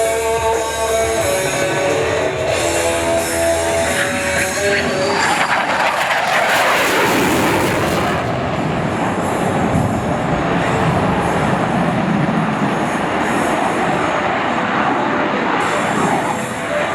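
An F-22 Raptor makes a sneak pass at the Dover Air Force Base air show, its jet roar swelling to a loud peak around the middle and then trailing off into a long rumbling wash with no talking.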